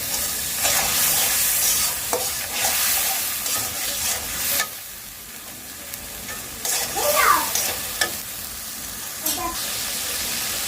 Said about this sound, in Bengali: একটু চিংড়ি মাছটা দিয়ে আগে একটু মশলাটা ভালোভাবে কষিয়ে নিলে ভালো হয়